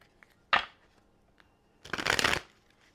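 Tarot cards being handled, with a sharp riffle near the start and then a longer, louder flurry of shuffling close by, separated by quiet and a few soft card taps.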